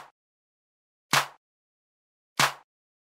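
A layered clap/snare drum sample, stacking a small Foley clap, a drum-machine clap and an 808 snare. It fires twice about 1.3 seconds apart as sharp, bright, crackling hits with a short tonal body, alone in silence.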